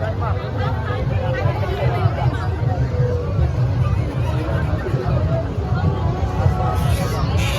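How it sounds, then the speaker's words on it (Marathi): Dense crowd babble fills a busy village jatra for Ratneshwari Devi, a steady wash of many overlapping voices with no pauses. "भरपूर म्हणजे भरपूर गर्दी असत"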